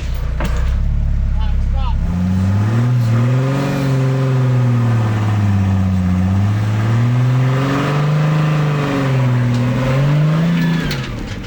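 Off-road vehicle at Hot Springs Off Road Park in Arkansas climbing a trail obstacle, engine loud and close as it idles, then revs up and down in repeated surging waves with a voice talking under the noise.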